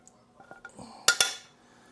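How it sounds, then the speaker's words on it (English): Dishes and cutlery clinking while a moose fry is plated indoors in a shed, a few soft taps followed by two bright, sharp clinks of metal on a plate, close and clear, with no talk. "I'll plate it up here now"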